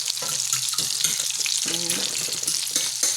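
Tempura frying in hot oil, a steady close sizzle and bubbling that runs throughout, with faint clinks of utensils over it.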